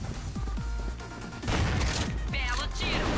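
Gunfire bursts from the M37 Stakeout slug shotgun in the Crossfire video game, a quick series of loud blasts and impacts over dense game noise, with a voice talking over them.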